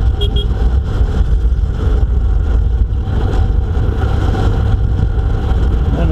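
Trucks on the road are heard from a moving motorcycle as a loud, constant engine and road rumble mixed with wind noise, with no clear break.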